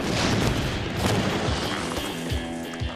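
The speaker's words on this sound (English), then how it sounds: "I call this piece Explosion 753" Explosion test blast, a deep booming rumble with rolling low-end crashes and scattered sharp cracks continuing for a few seconds, loud and close with no talk.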